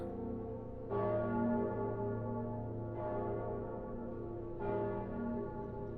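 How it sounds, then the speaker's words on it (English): Church bells toll in the Dark Souls 3 video game, three loud resonant strikes about two seconds apart, each ringing out over a sustained droning backdrop with no speech. "Oh, bells."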